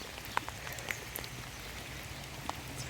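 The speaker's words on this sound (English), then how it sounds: "there's a lot of rain" Rain falling steadily across a garden, a dense continuous patter with a few sharper drips landing near the recorder, no voices.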